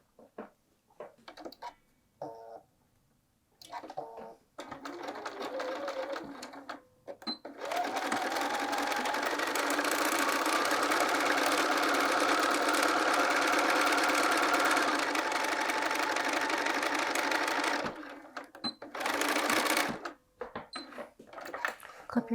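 Sewing machine stitching a dart in the main fabric of a quilted jacket, a loud steady mechanical whir running for about ten seconds after a few short starts and light handling noises, then brief stop-start bursts at the end.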